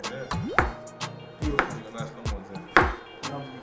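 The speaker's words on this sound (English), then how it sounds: "Not too hard because you don't want it to slice up the plantain inside." A knife cuts repeatedly into a plantain on a board, giving sharp scraping slices and soft thuds in an uneven rhythm, close by.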